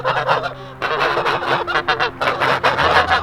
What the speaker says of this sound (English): I love my geese. They're so comical